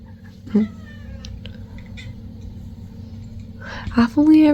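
A house cat meows and makes chattering calls while watching shadows, with short vocal bursts near the start and end over a steady low background hum, under speech.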